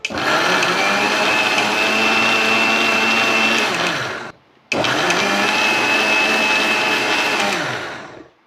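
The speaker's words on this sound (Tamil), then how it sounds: "தக்காளி அரைச்சாச்சு" An electric mixer grinder whirs loudly while grinding tomatoes into a paste for a crab curry, running in two steady bursts of about four seconds each with a brief silent pause between them, no voices.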